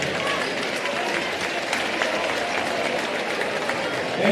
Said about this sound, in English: Let's also give a round of applause for the coaching staff